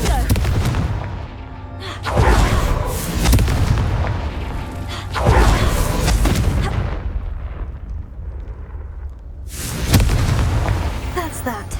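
Spell explosions in the Hogwarts Legacy video game boom repeatedly, several heavy blasts with rumbling tails roughly every few seconds, loud and close against game ambience.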